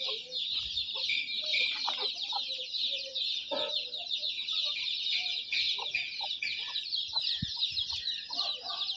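Desi village hens and roosters cluck continuously in a flock, a dense chorus of bird calls close by, with occasional faint voices beneath.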